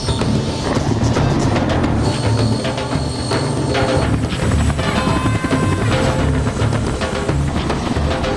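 Helicopter in an action war film set in Wardak province, Afghanistan: loud rotor chop and engine roar continue throughout, layered with film sound effects and no clear speech.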